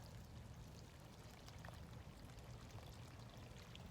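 Water poured onto the base of a newly planted tree or berry bush sinking into mulch, a steady soft outdoor splash and trickle running continuously and fairly faint, with no voices.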